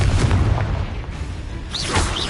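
Confringo blasting spells boom and burst in Hogwarts Legacy on PS5, a dense, loud run of explosive whooshes and impacts layered over continuous game noise across the whole stretch.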